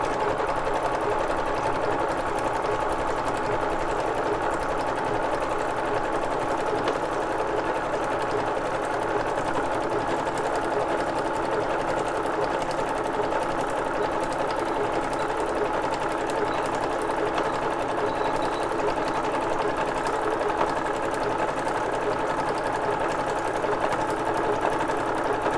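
Sewing machine stitching a jelly roll cover at a steady pace, giving a continuous close, even mechanical whirring and rapid clatter that keeps going without pause or voices.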